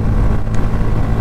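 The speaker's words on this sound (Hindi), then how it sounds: "बहुत ही मतलब बूमी एग्जॉस्ट का जो साउंड है वो लगता है इस बाइक का" A Bajaj Pulsar N160 motorcycle's exhaust gives a steady, deep, booming rumble while riding, loud and continuous with no talk over it.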